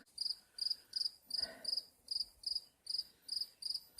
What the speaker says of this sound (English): that's crickets you hear.